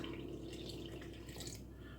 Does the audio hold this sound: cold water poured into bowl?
yes